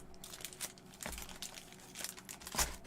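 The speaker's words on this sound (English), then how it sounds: "Alright, just about got these shuffled." Pokémon and Magic trading cards are shuffled by hand, giving close, crisp crinkling and slapping bursts in an irregular rhythm with no talking.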